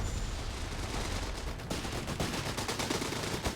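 Sten guns fire in rapid bursts amid a Company of Heroes 3 battle in a North African setting, a dense, continuous crackle of automatic gunfire with sharper bursts breaking through the battle noise.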